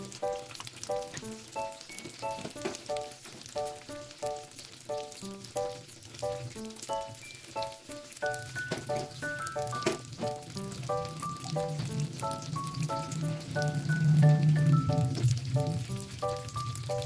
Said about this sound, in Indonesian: Di sini kita goreng sampai empek-empeknya itu kering ya, dan berwarna kecoklatan.